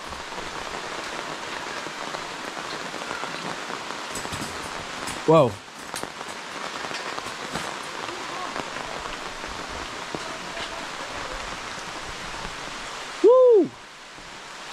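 Steady heavy rain pours down in Haiti in a dense, constant hiss, with a brief exclaiming voice and a couple of short tonal sounds breaking through.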